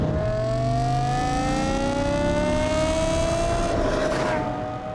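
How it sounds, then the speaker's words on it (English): A car engine drones steadily, its pitch climbing smoothly as the throttle opens, then building to a stronger, more insistent roar near the end. "Hear the engine note change, and then if I press down, the throttle response is much more insistent."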